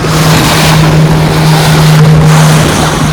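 A fishing boat's engine drones steadily at sea during deep-sea hook-and-line fishing, a loud, continuous low hum with wind and water rush over it and no talk.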